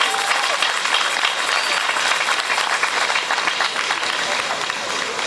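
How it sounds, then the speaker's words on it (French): Loud, sustained applause from a church congregation for the priests at a thanksgiving Mass in Kinshasa, a thick steady roar of many hands clapping close by. "Applaudissons pour nos pères."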